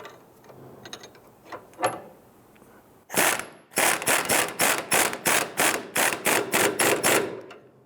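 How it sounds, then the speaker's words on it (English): A ratchet with a 21mm socket tightens a front sway bar link nut on a 2005-2010 Chrysler 300, giving a close, rapid series of sharp clicks in a steady rhythm after a few faint handling noises. "we're going to use a 21mm socket to go ahead and tighten that down"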